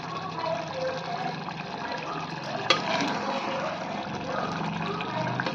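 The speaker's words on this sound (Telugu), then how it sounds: "కూర ఉడుకుతుంది." Eggplant and drumstick curry simmers with added water in a lidded pot on a stove, giving a steady close bubbling hiss that runs unbroken throughout, with one brief sharp click near the middle.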